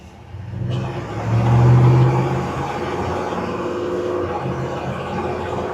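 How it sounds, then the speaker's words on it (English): A smooth-running truck drives along with a steady engine rumble and tire noise on the road, rising briefly as it accelerates and then settling into an even cruising hum. "Smooth, the tires ride good, there's no drivetrain vibration, just smooth truck."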